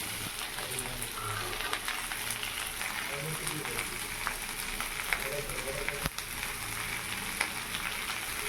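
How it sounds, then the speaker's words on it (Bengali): Potatoes with salt, chilli and turmeric fry in a pan, giving a steady broadband sizzle throughout, with faint background voices and kitchen clatter underneath. "ভালো করে আলু কষিয়ে নিয়ে তারপর ফুলকপিটা দিয়ে আবার একটু কষিয়ে নেব"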